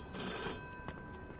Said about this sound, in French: Il est où le téléphone là-dedans?